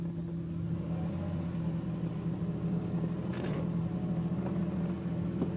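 Steady low engine drone from a DeLorean car being driven, with a continuous mid-level hum, a brief faint rattle partway through, and no talking.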